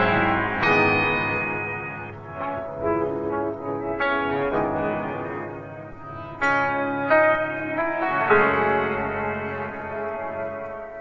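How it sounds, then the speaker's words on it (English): Guitar and piano each playing a couple of notes of one chord in a produced song arrangement, layered sustained tones with plucked and struck attacks, full and continuous with no voices. "the guitar and piano are each playing a couple of notes from the whole chord that we hear in the"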